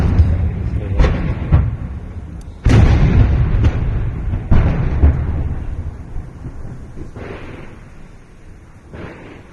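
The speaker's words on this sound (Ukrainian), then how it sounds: "Стріляють." Heavy booms of shelling and gunfire roll in one after another in a war combat zone, loud low rumbles with sharp onsets that fade into a lingering reverberant tail.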